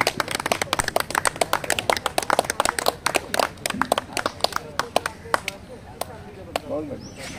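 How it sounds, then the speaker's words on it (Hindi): An audience at a yoga demonstration breaks into loose, uneven clapping, distinct hand claps that thin out into scattered slaps while a voice talks near the end. "तालियां हो जाए सबके लिए।"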